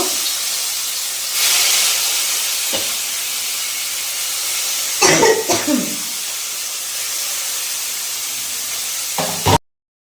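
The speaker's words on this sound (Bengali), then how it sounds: "এইভাবে আমি সব মাছটাকে ভেজে নেব।" Small fish sizzle in hot oil in a kadai, giving a loud, continuous hiss that swells in places, with a few sharp bursts of spattering and clatter midway and near the end.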